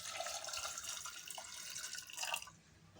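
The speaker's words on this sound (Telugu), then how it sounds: "ఇలా వాటర్ పోయాలి." Water pours into a pot of soaked kabuli chickpeas before they go into a pressure cooker, a steady splashing trickle that runs for a few seconds, rises to a brief surge, then cuts off.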